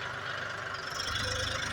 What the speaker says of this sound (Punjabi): ਚੱਲ ਪਿਆ ਟਰੈਕਟਰ ਆਪਣਾ ਮਿਲ ਨੂੰ